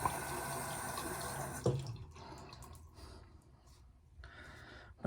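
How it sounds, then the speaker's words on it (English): Tap water runs steadily into a sink, then breaks into splashes and intermittent gurgling as a shaving brush is wetted under the stream, with a final splash at the end. "I completely neglected to soak my brush, so I'll just go ahead and wet it"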